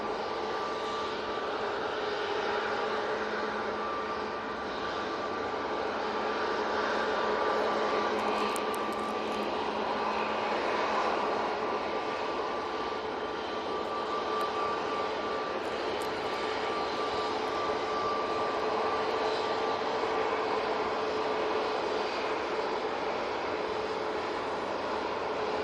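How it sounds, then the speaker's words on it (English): A Virgin Atlantic airliner arriving from JFK on short final to Manchester, a steady broad jet roar with a faint engine whine, holding constant and fairly loud throughout with no talk. "Virgin Atlantic from JFK, now on short finals for 2 free rights."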